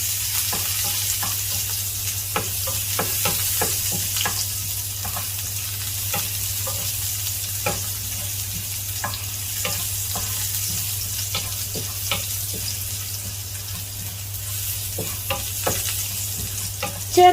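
Shallots, dried red chillies and curry leaves spitting in hot oil over popped mustard seeds, a continuous sizzle broken by frequent sharp crackles and pops as they are stirred, with a low steady hum behind.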